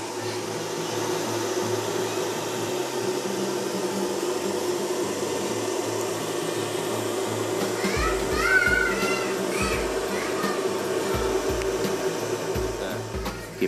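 An automatic cooling fan whirs steadily and loudly throughout, a constant broadband drone with brief chirpy sounds and low thumps partway through.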